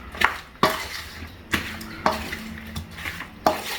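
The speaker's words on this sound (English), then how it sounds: "We're just mixing up our chicken now." Wet, sticky stirring of chicken in marinade in a bowl with sharp clinks of a utensil against the side at irregular intervals, close by.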